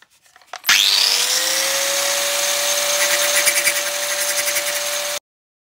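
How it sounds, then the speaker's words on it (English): A power tool spins up and grinds steadily at the head of a pin on a Kawasaki ZX6R motorbike chain, a loud close whine with a sustained metallic grinding tone that holds for several seconds then cuts off abruptly. "First step, to grind the head off one of the pins."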